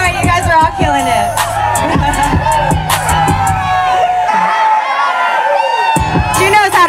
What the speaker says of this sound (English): If you guys keep cheering, the longer they'll go.